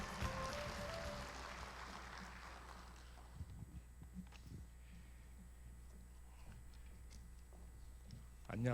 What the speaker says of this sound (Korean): 다시 한번 박수로 맞이해 주십시오.